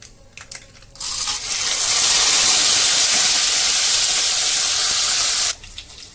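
Mustard seeds and curry leaves, with chana dal and green chillies, hit hot oil in a home kitchen, and a loud, broad hiss suddenly erupts, holds steady for several seconds, then drops away abruptly. No one speaks.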